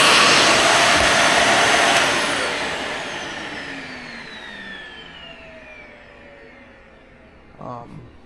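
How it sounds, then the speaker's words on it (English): A vacuum cleaner runs again after a tissue clog was cleared, starting as a loud, steady rushing whine that gradually winds down over several seconds, ending with a brief clunk. "I'm gonna real quick turn it on again and make sure there's no other clog in the vacuum"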